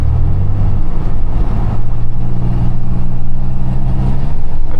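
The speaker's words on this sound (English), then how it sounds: "I hear the exhaust leak for sure" A car with a rusted, leaking exhaust heard from inside while driving, a steady loud low rumble and drone from the engine and road, with no talking over it.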